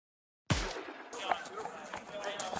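Gunfire during a police shootout: after brief silence a sharp shot bursts in, followed by scattered, fainter pops and thuds, mid-distance and fairly quiet.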